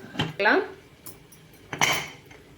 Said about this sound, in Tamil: இப்போ நம்ம குக்கர் மூடி நம்ம போட்டுக்குவோம்.